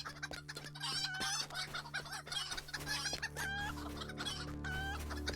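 Chickens cluck and a rooster crows in the video game Lord of the Rings Online, several birds busy and overlapping in a steady farmyard chorus over a low hum, no speech.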